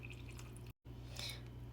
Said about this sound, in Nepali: अब चाहिँ म यहाँ पानी राख्दैछु।